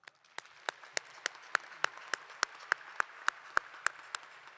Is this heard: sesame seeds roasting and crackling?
no